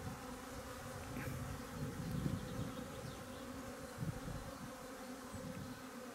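Honeybees buzzing around the entrance of a hive where workers bring in pollen, a steady low drone from many insects with occasional louder passes close by, fairly faint and without voices.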